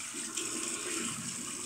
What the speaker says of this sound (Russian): Добавляем водички так от души